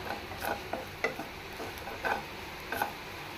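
Spiced breadfruit mixture with turmeric being stirred and mixed in a pan, with soft intermittent scraping and clinking strokes at an irregular pace over a faint steady background.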